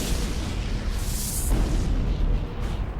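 A supernova explosion sound effect for a space documentary rumbles as a continuous, loud, deep roar that swells and churns for several seconds, with no voices.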